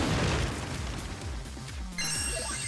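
Shining laser attack in the PS4 game Digimon Story Cyber Sleuth Hacker's Memory: a heavy booming blast with crashing impacts, then a bright shimmering electronic tone sweeping in near the end, loud and alone.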